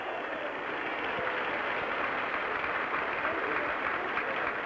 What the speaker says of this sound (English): getting the first real applause from the French crowd